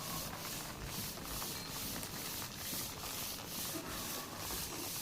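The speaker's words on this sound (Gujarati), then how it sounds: "અને આવી ઘસવો પડે પૂંખને." Hands rub roasted green sorghum grains (ponkh) with a steady, rhythmic scratchy swishing, repeated strokes close by and fairly soft.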